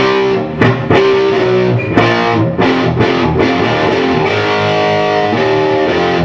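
Distorted electric guitar strums a quick sequence of chords, loud and continuous with choppy accents, no voices.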